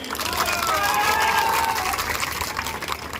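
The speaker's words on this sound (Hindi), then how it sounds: "और एक ताली सबके लिए बजा दो" Dense applause from a large crowd at an outdoor political rally in Sadulshahar, loud and sustained for several seconds with faint cheering voices mixed in.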